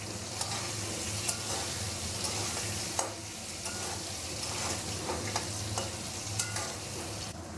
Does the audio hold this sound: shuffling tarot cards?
no